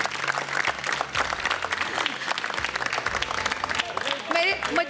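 Audience applause fills a television iftar transmission studio, steady and continuous, with music or other voices mixed underneath throughout.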